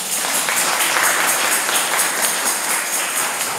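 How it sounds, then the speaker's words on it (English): A church congregation at a Methodist service in Barbados claps together in a steady, dense wash of applause that stays even throughout, with no pauses. "give God a clap for that"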